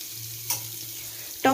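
Red carrots stirred in a frying pan for a raw tomato sambharo, a low steady sizzle under a faint hum, then a sudden louder scrape and crackle at the end.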